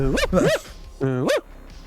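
A person's voice imitates a dog barking, giving a few loud, rising-and-falling bark-like yelps in two quick bursts separated by a short pause, close and clear.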